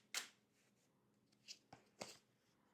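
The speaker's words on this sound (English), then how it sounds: "One more shuffle." Tarot cards are shuffled close up and quietly: a sharp riffle burst at the start, then a few softer flicks and slaps spaced across the next couple of seconds, with no voice.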